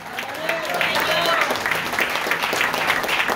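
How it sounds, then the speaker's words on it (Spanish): A church congregation in Siler City, North Carolina applauds for Christ, a lively burst of clapping mixed with voices and scattered shouts. "Dale un aplauso a Cristo"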